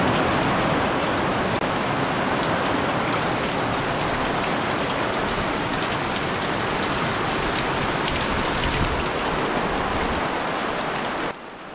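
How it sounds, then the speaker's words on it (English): Heavy rain pouring down in Bowen, Queensland, a loud, dense and steady hiss of drops hitting surfaces that continues unbroken, softening slightly at the very end. "It's been pouring like this since early this morning, about 3 or 4 o'clock."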